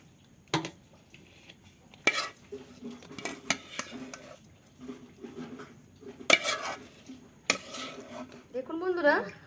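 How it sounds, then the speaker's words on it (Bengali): A hot sesame and jaggery mixture for til naru is scraped and tipped into a vessel with a spoon, giving scattered metallic clinks and scrapes of utensil on metal that sound close and moderately loud, with brief speech mixed in. "আমি একটি পাত্রের মধ্যে ঢেলে নিয়েছি"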